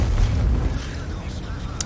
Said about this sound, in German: Zwei Schüsse bereits angebracht